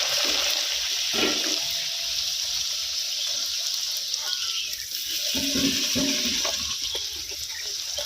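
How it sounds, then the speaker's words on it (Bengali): Luchi bread frying one at a time in hot white oil in a wok in a village kitchen, a continuous hissing, bubbling sizzle with occasional louder splashes and clatters. "কড়ার মধ্যে সাদা তেল গরম হয়ে গেছে, ও একটা একটা করে লুচি দিয়ে দেবে।"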